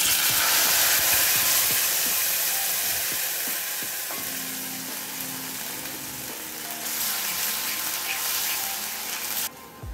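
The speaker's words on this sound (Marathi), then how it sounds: "जिरं छान फुललं की त्यामध्ये आपण ही तयार केलेली पेस्ट घालून घ्यायची आहे।" Spice paste, made without onion or garlic, frying in hot oil with bloomed cumin seeds, a loud, busy sizzle with stirring scrapes that eases slightly midway, then flares again near the end.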